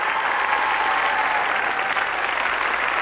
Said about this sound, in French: Vous pouvez les applaudir, il faut les encourager